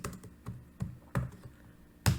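Scattered clicks of a computer keyboard being typed on, several light taps and a few sharper, louder keystrokes at irregular intervals, close by and alone in a quiet room.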